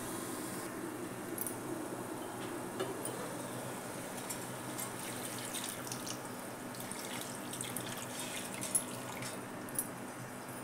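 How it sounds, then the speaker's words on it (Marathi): Water runs into a cooking pot of steamed prawns for a curry gravy, a quiet continuous trickle with occasional drips and light clinks, steady for about ten seconds with no talking. "थोडेसे वाफवून देऊन मग पाणी घालते त्यात."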